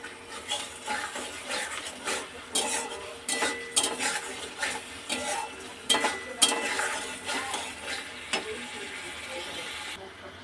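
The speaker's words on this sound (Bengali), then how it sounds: "ভেজে রাখা আলুটাকে দিয়ে দিলাম এর মধ্যে, একটুখানি কষিয়ে নেবো" Fried potatoes are stirred into spice paste in a pan, giving a soft sizzle under repeated scraping and clinking of a spatula or spoon against the metal in irregular bursts, close and fairly busy.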